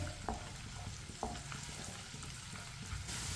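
Garlic and onion fry on medium heat for rajma, a continuous sizzle with a few scraping stirs near the start, soft and steady at close range, no talking.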